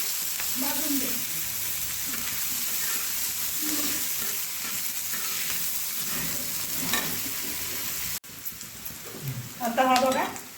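Chopped onion and green chilies frying in hot oil for Marathi chicken kharda, a steady close sizzle with occasional stirring scrapes, the hiss briefly dropping near the end before louder stirring.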